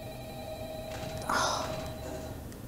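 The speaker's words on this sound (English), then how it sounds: "Answer the phone." A phone rings in the Five Nights at Freddy's horror game, a short faint electronic ring under low background noise with a brief louder burst midway.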